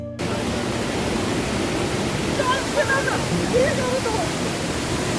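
Kanchenjunga Falls near Pelling, Sikkim, in dense forest among rocky hills, pours in a loud, unbroken rush of water that fills the scene, with faint voices barely showing beneath it.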